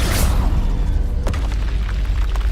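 An explosion from a Confringo blasting curse in Hogwarts Legacy lands as a loud, heavy boom, followed by a sustained low rumble with a sharp crack partway through as the blast rolls on.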